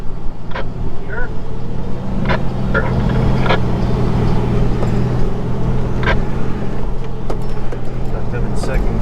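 Off-road vehicles crawl in low gear on a rocky trail, a steady low engine rumble throughout with voices talking over it and occasional knocks and clanks.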